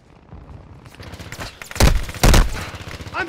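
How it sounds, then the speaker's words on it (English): Video game gunfire builds from faint rapid pops into two loud, heavy blasts, followed by quieter shots and a brief voice near the end. "Somebody's shooting."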